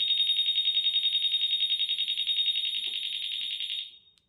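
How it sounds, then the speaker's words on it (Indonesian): An anti-theft alarm on a Honda PCX keyless scooter system wails after being bumped: a loud, rapidly pulsing electronic tone that holds steady for about four seconds, then cuts off, with no talk. "ini alarm jadi pada saat terganggu atau tersenggol kurang lebih 15 detik dia akan mati otomatis"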